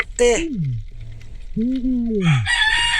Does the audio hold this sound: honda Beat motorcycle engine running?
no